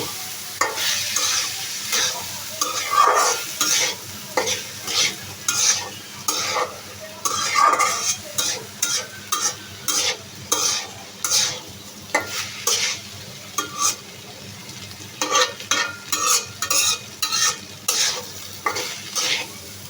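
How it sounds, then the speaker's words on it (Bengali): Rice and lentils are fried with onions in a pan for khichuri, with steady sizzling under repeated rhythmic stirring and scraping strokes throughout, close and clear with no talking. "তো এখন আমি প্রথমে আগে চাল এবং ডালটাকে ভালোভাবে পেঁয়াজের সঙ্গে ভেজে নেব।"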